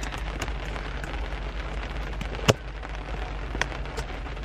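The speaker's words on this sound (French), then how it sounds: "Il pleut tellement là, c'est genre horrible dehors" Heavy rain falling outside: a dense, steady wash of hiss and patter, with a single sharp crack midway and a few faint pops.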